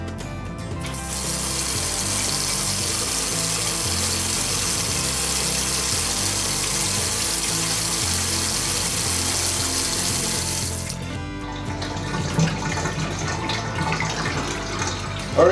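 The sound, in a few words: water filling and draining a bathtub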